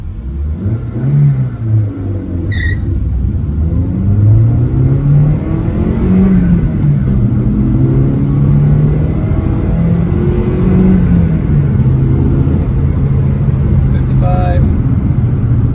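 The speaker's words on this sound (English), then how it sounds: "Alright, let's get it close to red line, see what it does. And I'm going to give it a couple of revs" A car engine, run on an oil-burning catalytic converter test, revs loudly and close up with rising and falling engine tones over a steady low rumble, and a voice speaks over it.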